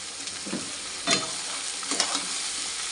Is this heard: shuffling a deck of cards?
no